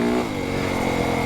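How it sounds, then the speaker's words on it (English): A 2025 Yamaha YZ450FX 450cc dirt bike engine revs under short throttle blips, a loud, close, steady bark holding high RPM with slight rises and dips. "Just do this little brum brum brum throttle openings."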